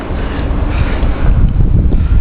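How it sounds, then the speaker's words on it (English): Strong blizzard wind buffets the microphone with a steady, loud low roar and rumble for the whole stretch, with no voices. "It's just a little windy."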